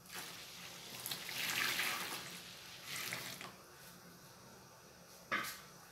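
A litre of hot water poured while making homemade coconut soap detergent, a close hissing pour swelling for a couple of seconds, then fainter water sounds and a sharp knock near the end.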